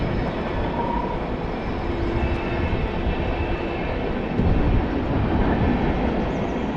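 A train rolls along the Great Allegheny Passage near the Salisbury Viaduct, producing a steady, dense rumble and rushing wheel noise that holds without a break and swells slightly toward the end.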